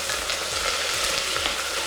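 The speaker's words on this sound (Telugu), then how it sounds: "కొత్తిమీర, పుదీనా, కొత్తిమీర, జీడిపప్పు వేసి ఫ్రై చేసుకోవాలి" Cashews, mint and coriander fry for crab biryani, giving a dense, even sizzle with faint stirring underneath, loud and close for a brief stretch without speech.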